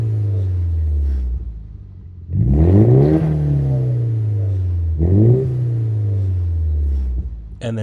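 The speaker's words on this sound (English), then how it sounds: "So this is the X-Force non-valved muffler with a 3-inch system." A Nissan S15 with an X-Force non-valved 3-inch exhaust idles with a deep rumble, then revs twice in sharp rising bursts that fall back to a steady idle, close and loud.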